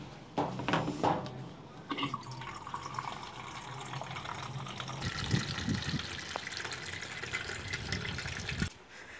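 Tap water runs and gushes into a sink, a steady close splashing flow with a few louder bursts early on, stopping abruptly near the end.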